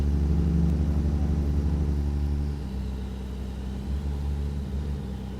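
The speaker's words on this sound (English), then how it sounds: "Love the exhaust sound. Love the Jake brake." A loaded log truck's diesel engine rumbles steadily, with a deep, throaty exhaust note that eases off partway through as the Jake brake engages. The sound is close, continuous and heavy, with no voices.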